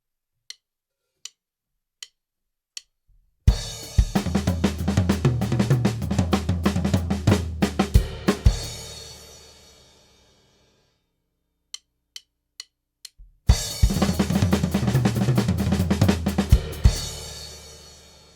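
A drummer's drum fill from a song played on a drum kit: a few sparse hi-hat ticks, then two dense bursts of rapid snare, tom and cymbal hits mixing triplet figures, with no talk.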